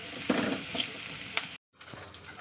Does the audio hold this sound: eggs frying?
yes